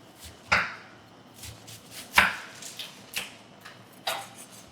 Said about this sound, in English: then we're going to start dicing our onion